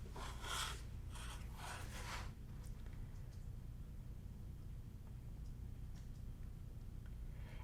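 Fabric for a half square triangle in a Friendship Star variation quilt block is trimmed, making several quick rough rasping strokes in the first two seconds, then only faint quiet background.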